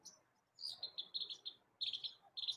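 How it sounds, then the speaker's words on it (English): Chirpy, a pet bird, gives a series of short, high chirps and warbling song phrases in quick bursts with brief pauses between them, fairly faint and close in a quiet room. "I'm just amused at all of Chirpy's songs."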